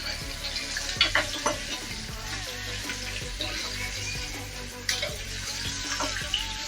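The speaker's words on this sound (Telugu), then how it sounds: "ఇలా అన్నీ ఒకసారి బాగా మిక్స్ చేసుకున్నాము" Rice mixed with masala being stirred and fried in a pan for gongura pulihora, a steady sizzle broken by scraping strokes of a spoon at an uneven rhythm, close and moderately loud with no talking.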